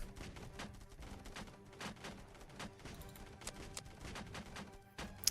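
Mortars firing in the Homewars video game, a steady stream of overlapping thumps and pops rolling on continuously under busy battle noise, with no talk.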